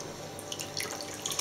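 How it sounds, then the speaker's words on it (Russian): A hot wet towel being wrung out, water trickling and spattering in quick irregular drips, close and fairly quiet, lasting only a moment. "Мы выкручиваем полотенечко."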